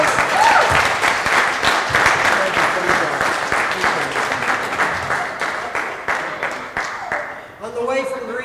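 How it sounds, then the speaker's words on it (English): A banquet audience gives sustained, loud applause for a magician's assistants at a Rotary Club installation dinner, dense clapping running steadily for several seconds before a brief pause and a voice at the end. "Give my assistants a big round of applause."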